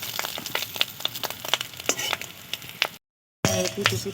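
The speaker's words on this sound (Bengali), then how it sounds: "এক পাশটা একটু ভালো করে ভেজে নেব" Fish roe fritters frying in a small amount of oil, a steady close sizzle broken by sharp crackles and pops, with a brief dropout and then a louder burst of spattering.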